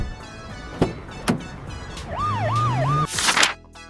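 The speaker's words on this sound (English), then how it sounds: "This is a mini ambulance." A mini ambulance gives a few sharp clicks, then its siren wails in a rising and falling electronic warble over an engine hum, which cuts off into a loud, noisy burst.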